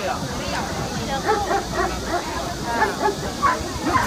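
Several dogs bark and yip repeatedly at a rural dog market, with overlapping voices and crowd chatter underneath.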